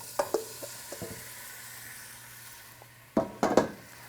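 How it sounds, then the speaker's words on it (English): Pork hits hot oil in a warm pan and sautés, giving scattered soft clicks and light utensil taps, then a louder burst of close sizzling near the end. "That's the sound we're looking for right there, saute."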